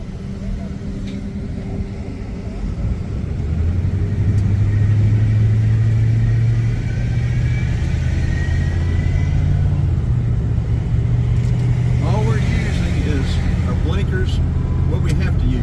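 A Ford 2000 Express van with a failing alternator idles in a steady, low engine rumble. The engine swells slightly partway through, and people talk over it.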